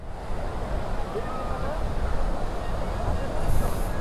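Sea waves roll and wash onto Kuakata beach in a steady, loud surf mixed with wind noise, with a faint murmur of people in the background.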